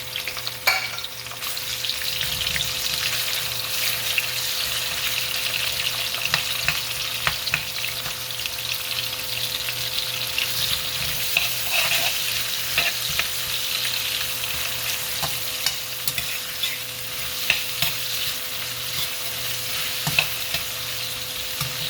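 Onions sizzle steadily in a hot pan while being stirred for Punjabi-style Maggi noodles, a continuous close frying hiss with small scraping stir noises throughout and no voices.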